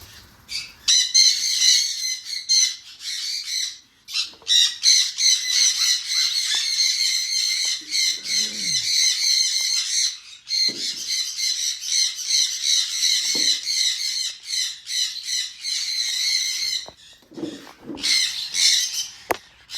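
A flock of budgerigars squawks and chatters nonstop, loud and close, with shrill overlapping calls and brief pauses throughout.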